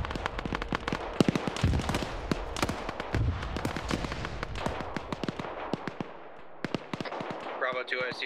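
Mortar rounds burst in a video-game combat scene, a rapid series of sharp explosions and cracks with some louder thumps, close and busy throughout, with voices talking over it.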